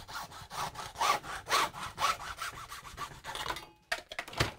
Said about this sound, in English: So I'll get me old hacksaw out.